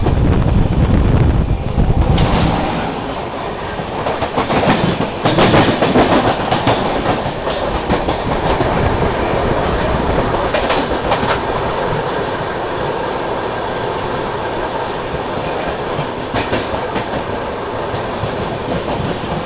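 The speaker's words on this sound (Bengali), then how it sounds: "আমাদের ট্রেন পার করে এলো চিত্তরঞ্জন" Akal Takht Express passenger train running on the Howrah–Patna main line near Chittaranjan: a loud, steady rumble of wheels on rails with clickety-clack beats and rattling carriages, heaviest in the opening seconds, then a sustained close roar.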